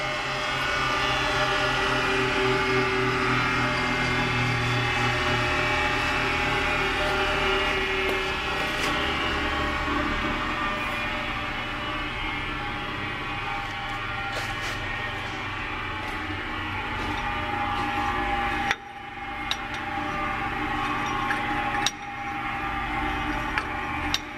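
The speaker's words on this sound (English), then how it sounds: "he's turned it off now, it's winding down" Kamas H14 hammermill motor switched off and winding down, a loud steady mechanical drone with humming tones that slowly fades and thins, with a few clicks and knocks near the end.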